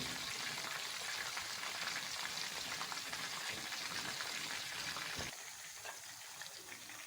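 Chicken pieces fry in hot oil in a pan for black pepper chicken, giving a dense, even, rain-like sizzle up close that eases slightly in level near the end, with no voices.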